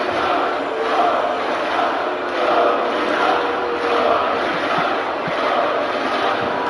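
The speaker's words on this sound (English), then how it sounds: "Crowd telling Hogan he sucks." A large wrestling crowd chants in a steady rhythmic pulse, loud and continuous, voices blending into a rolling roar that rises and falls.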